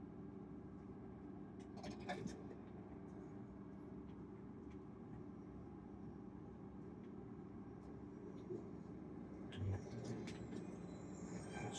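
A train in the Bendy and the Ink Machine video game rumbles steadily, a continuous low rolling drone with faint metallic clanks and brief squeals, heard at a low level.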